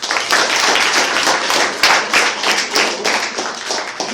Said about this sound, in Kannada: ಒಬ್ಬ ಭಾರತೀಯ ಅಷ್ಟೊಂದು ಮಾಡ್ಲಿಕ್ಕೆ ದೊಡ್ಡ ಚಪ್ಪಾಳೆ ಅವನಿಗೆ.